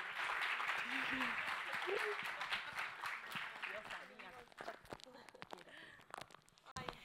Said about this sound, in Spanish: Igual pueden volver a aplaudir a Valentina